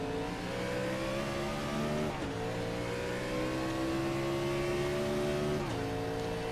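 Race cars in iRacing at Atlanta accelerate together on a restart, several engine notes climbing steadily in pitch, a brief dip near two seconds and again near the end as they shift, loud and continuous with no talk.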